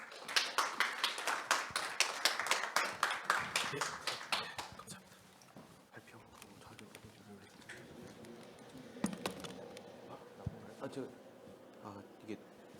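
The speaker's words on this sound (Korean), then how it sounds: "나오실 때 큰 박수 한번 부탁드리겠습니다" Applause at a biodiversity forum's opening as a keynote speaker comes up, a burst of rhythmic clapping for about four seconds that fades into scattered taps, shuffling and faint talk.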